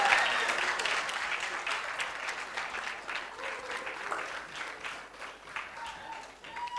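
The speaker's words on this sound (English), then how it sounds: "let's give her a very warm round of applause as she comes up" Audience applause at a TEDx event at Nile University of Nigeria, dense and steady, welcoming a speaker to the stage, with no talk over it.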